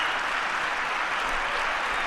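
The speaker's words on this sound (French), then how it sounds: "Regarde l'acclamation qu'il reçoit. Une ovation debout." A large crowd at a Donald Trump event in Riyadh gives a standing ovation, with dense, steady applause from many hands and no break throughout.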